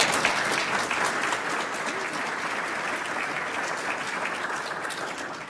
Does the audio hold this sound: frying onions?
no